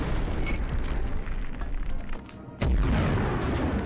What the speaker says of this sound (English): It damn near blew me up just trying to get through this spot.